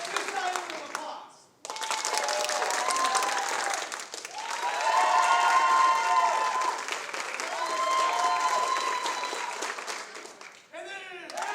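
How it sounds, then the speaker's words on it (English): A crowd at a youth leadership awards show breaks into a long round of applause, swelling and easing in waves with brief dips between bursts of steady, close clapping. "This round of applause."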